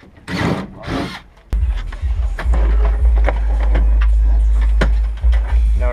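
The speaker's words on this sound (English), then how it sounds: "they just put on the drill" A power drill whirs steadily at close range, a loud continuous motor drone with small clatters, briefly preceded by a muffled voice.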